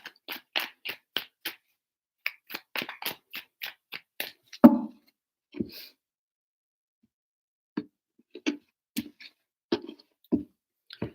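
Soft, rapid papery taps and flutters of tarot cards being shuffled, in a few short runs with pauses, close and quiet.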